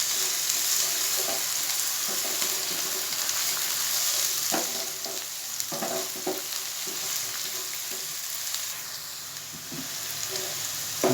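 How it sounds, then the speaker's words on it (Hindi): Chopped onions fry in hot oil in a pan for vegetable macaroni, giving a steady broadband sizzle with scattered sharper crackles and a few soft scraping knocks throughout, close and moderately loud with no talking. "उसके बाद इसमें मैं 1 प्याली चॉप की हुई प्याज ऐड कर दूंगा।"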